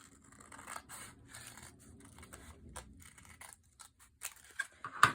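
Scissors snipping through a torn recycled yarn bellyband, a few quiet crisp cuts and soft rustling of paper and yarn, close and alone, ending with a sharper snip.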